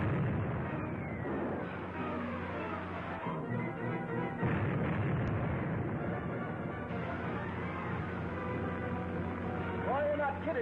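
Booming 3-inch shell artillery fire in a 1945 film serial, dull explosions and rumbling blasts mixed with dramatic music and people talking throughout.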